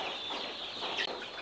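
A dense chorus of chickens clucking at a home poultry farm housing about 10,000 birds, a continuous, fairly faint crowded chatter with no voices.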